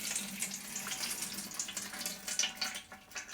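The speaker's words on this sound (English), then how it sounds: "After they've been sitting there for a few hours, carefully tip the water out." Water splashes and trickles steadily out of a container as soaking seeds are drained into a sink, a continuous close, moderately loud pour with no talking.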